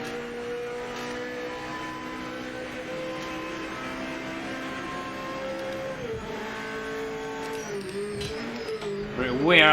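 Race car engines from the Project Motor Racing video game, old GT500 cars running in a pack with a slipstream: a steady droning engine note that shifts pitch near the chicane and swells louder at the end, with a voice talking over it.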